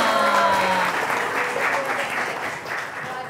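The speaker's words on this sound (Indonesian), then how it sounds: "Boleh dong berikan tepuk tangan dong." Audience at a museum visit clapping in a steady round of applause, fairly close and continuous, with a brief tonal voice-like sound at the start.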